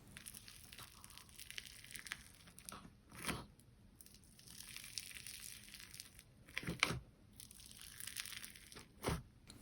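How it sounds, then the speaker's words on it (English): Slime with snow fizz streusel topping being mixed, producing soft crunching and crinkling squelches in bursts with quiet gaps, close and moderately faint, no voices. "Mixing this slime was so satisfying"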